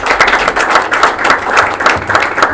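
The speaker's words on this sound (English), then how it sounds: "Can we get a round of applause, ladies and gentlemen?" Close, loud applause from an audience at a business launch event, a dense continuous clapping that holds steady throughout.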